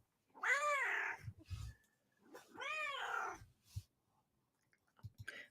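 A talkative pet cat named Vadik, living in Russia, lets out two drawn-out, wavering meows close by, separated by quiet pauses and followed by soft faint rustles.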